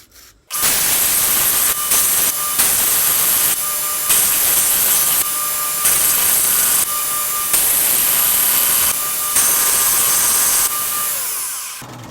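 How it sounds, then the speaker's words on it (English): Loud, continuous grinding as a steel knife blade, a recreated Marine Ka-Bar, is ground flat on a 30 grit abrasive belt; harsh steady roar in several long passes with brief dips between them, no talking. "we got to grind it flat"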